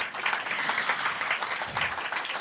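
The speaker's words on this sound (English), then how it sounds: "How about a round of applause, please, for all the gentlemen on stage?" Steady applause from an audience at a live event marking UPI–PayNow cross-border connectivity between India and Singapore, a dense continuous clapping that fills the whole stretch without talk over it.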